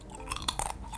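Air-fried kkuikkui, a fish cake snack, gives several crisp, close crunches in quick succession as it is bitten and chewed, with no talking.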